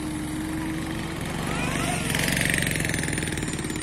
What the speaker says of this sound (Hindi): रेत में बाइक आराम से लेके जा रहा है भाई